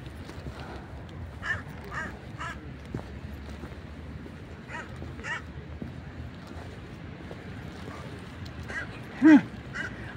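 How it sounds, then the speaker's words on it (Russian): Crows caw in fog around a drama theatre: scattered harsh calls, mostly at a moderate distance, rise out of a steady murky background, with one louder, nearer call near the end. "А я ворон снимаю."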